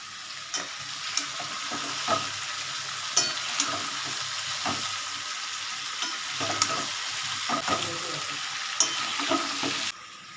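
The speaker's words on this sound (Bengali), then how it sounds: "অনেকক্ষণ ধরেই কষাচ্ছি" Chicken curry sizzles loudly in a pan as it is sautéed, with a steady frying hiss under repeated scraping stirs close by. There is no talking.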